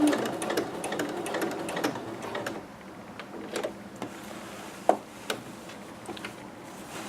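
A sewing machine runs a seam on a McCall's M6701 dress, a quick close whirring with rapid needle ticks in short bursts, then quieter intermittent clicks.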